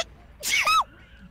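A single sharp sneeze during a live stream, close and loud, with a quick breathy intake and then a burst, alone with no talk.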